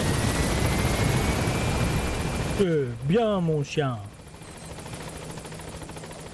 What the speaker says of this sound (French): on peut descendre de l'hélicoptère